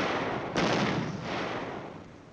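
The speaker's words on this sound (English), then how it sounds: "phase two of the assault finds the division artillery beginning to pound the target area." Division artillery pounds a target area during an infantry division's assault, with one sharp, loud blast followed by a rolling, decaying boom.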